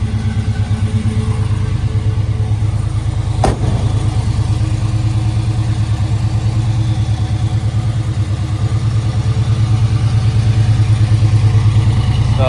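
A 1967 Camaro with dual exhaust idles steadily after a cold start, a loud, close, even rumble that holds throughout, with one brief click partway in.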